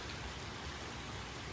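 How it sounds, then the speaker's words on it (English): Steady, heavy rain pours down outside a rental home in Tennessee, a dense continuous hiss of drops on surfaces that fills the whole stretch with no voices. "it is pouring down rain"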